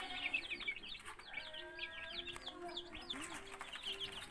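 High, rapid peeping of young chicks, many overlapping chirps close by, with occasional soft clucking underneath.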